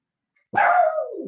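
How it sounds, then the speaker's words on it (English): A dachshund lets out a single sharp bark after a moment of silence, close and fairly loud, with a slight falling whine at the end. "Oh, that's my wiener dog. Sorry, she's barking."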